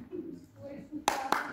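Brief burst of audience clapping for an association president at an event, starting after a moment of murmured voices and continuing with a few sharp, close claps.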